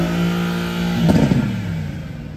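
A car on a street in Dubai Marina revs its engine loudly and close by as it pulls away, the steady idle rising into a short throaty surge.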